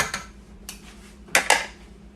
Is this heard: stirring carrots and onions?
yes